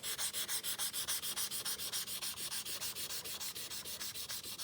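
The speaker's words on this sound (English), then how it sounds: "I'm going to switch to my 400 grit sandpaper and go back my original direction" Hand sanding with sandpaper, moving from 320 to 400 grit and switching stroke direction, gives steady rhythmic back-and-forth rasping strokes of about five per second. The strokes sound close and even, with no talk.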